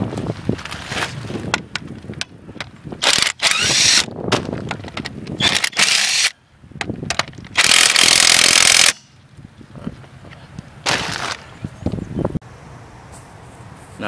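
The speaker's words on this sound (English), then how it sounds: "You want to grab your 11/16 socket." A ratchet with an 11/16 socket works on the rear wheel of a BMW 328i E36, heard as loud, close, irregular bursts of ratcheting and metallic rasping broken by brief pauses, with no talking.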